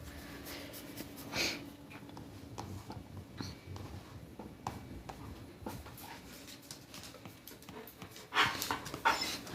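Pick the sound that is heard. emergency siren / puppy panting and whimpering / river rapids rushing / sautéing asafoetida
puppy panting and whimpering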